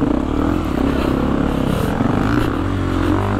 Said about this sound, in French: J'ai 3 heures de moto à vous faire avec moi dans les bois.